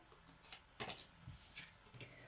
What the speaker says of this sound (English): Shuffle it a bit more.